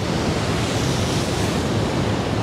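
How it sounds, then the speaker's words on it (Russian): Storm waves surge onto a beach at Anapa during a severe storm, a continuous loud roar of surf and rushing water with wind noise, steady and close throughout. "И налетает волна, и опять вода несется сюда."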